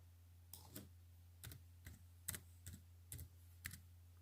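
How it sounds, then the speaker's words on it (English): Typing on a computer keyboard, soft clustered key clicks in uneven bursts over a steady low hum, close and quiet with no talk. "I'm going to type in"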